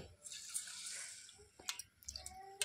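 Mung dal lentils being washed in water, with a soft running and sloshing wash followed by a few light splashes and drips, quiet and close.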